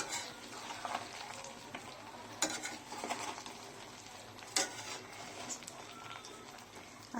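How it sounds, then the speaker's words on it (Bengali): Jujubes frying in oil with spices over low heat give a steady, close sizzle, broken by the scrape and clatter of stirring in the pan; no one speaks. "এখন তেলের সাথে আর ফোড়নের সাথে ভালো করে বড়ইটাকে আমি মিক্স করে অল্প আঁচে ভেজে নেব।"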